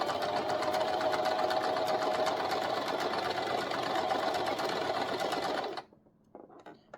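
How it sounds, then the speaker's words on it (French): A sewing machine stitches a straight seam forward in a steady, rapid mechanical whir with a fine ticking rhythm. It sounds close and continuous, then stops abruptly near the end, leaving faint handling noises. "Hop, c'est parti pour ma couture droite en avant."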